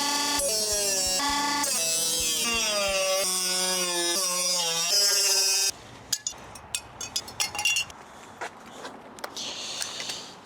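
Cutting pieces off a Nissan S14 car body: a steady whining tool tone runs through the first half, then gives way to harsh broadband grinding and scraping with sharp, irregular bursts.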